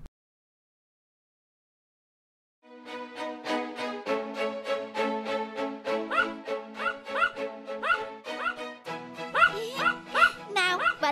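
A cartoon dog barks again and again in a quick, lively run, loud and close, with yips and whimpering at the end and no speech over it.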